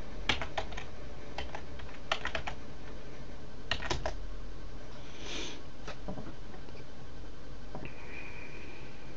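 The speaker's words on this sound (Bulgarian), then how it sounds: "Ето, пишем root. Пишем си паролата, която сме задали." Keystrokes on a computer keyboard while a root password is entered, in irregular bursts of sharp clicks with pauses, close and moderately loud, no talking.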